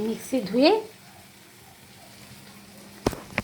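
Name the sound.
sautéing paneer curry paste in a pan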